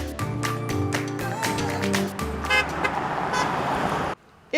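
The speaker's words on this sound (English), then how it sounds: "If honks measured happiness, Herman Melton is a hit" Car horns honk repeatedly at a roadside in Dublin, a run of overlapping toots from passing vehicles with traffic noise underneath, ending abruptly.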